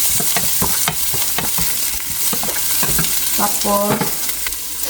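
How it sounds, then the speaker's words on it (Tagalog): Onion and garlic fry and sizzle loudly in a pan, stirred with repeated scraping strokes, while a voice briefly speaks over the cooking noise. "Sibuyas and ahos. Atin na siyang i-fry."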